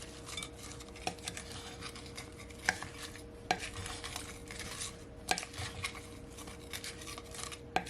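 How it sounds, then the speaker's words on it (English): Shrimp with scallion, fresh thyme and garlic is mixed in a bowl for Jamaican pepper shrimp, giving faint, irregular clinks and light scraping, with a few sharper taps among the soft stirring. "So now I'm just gonna mix it all in."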